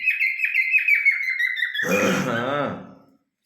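Pet parrots kept at home give a rapid run of high, bright chirps. A lower, squawky, chattering call follows, then the sounds stop abruptly.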